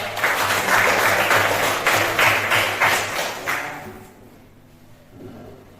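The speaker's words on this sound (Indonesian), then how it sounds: "tepuk tangan dulu buat" A classroom of pupils claps together in a loud, rhythmic burst of applause that fades out after about four seconds, followed by quiet room sound.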